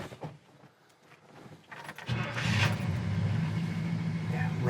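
A 1967 Pontiac GTO with about 84,000 miles fires up, then idles steadily and loud after a quieter stretch of faint handling noises, with a steady low engine rumble.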